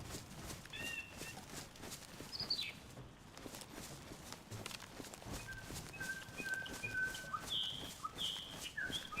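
A bird in a forest in the video game DayZ, set in Chernarus, gives a few short whistles, one near the start and a brief run toward the end, faint over rustling footsteps.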